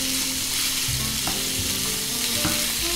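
Sausage meat frying in a pan, a loud, dense, continuous sizzle close up with a few faint knocks of a wooden spoon breaking it up, no voices.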